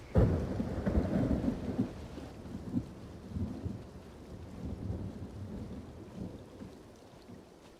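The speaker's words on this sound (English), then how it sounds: "walking through somewhere, and with a distant storm in the background that feels like it's getting closer" Steady rain falls in Elder Scrolls Online while rolling thunder rumbles low and heavy, loudest at first and then in softer waves as the approaching storm's ambience continues.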